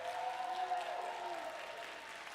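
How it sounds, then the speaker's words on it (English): An audience at a city budget engagement forum claps its hands in a brief, moderate patter of applause, with a voice faintly audible underneath. "If neighborhoods are your number one issue, clap your hands."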